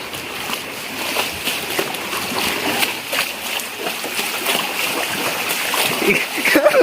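A person wades through flood water during heavy cyclone rain. Rhythmic splashes and sloshing sound close by, with voices talking over the water.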